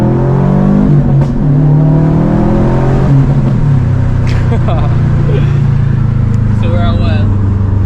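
A Subaru WRX STI engine revs hard in second gear, loud and close from inside the car, its pitch climbing steadily, dropping at a shift, then climbing again.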